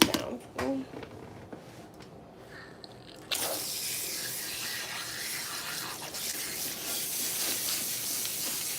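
A salon shower sprayer rinses a client's hair with a continuous hissing rush of water that starts abruptly after some quiet shuffling, and a person speaks briefly before it comes on.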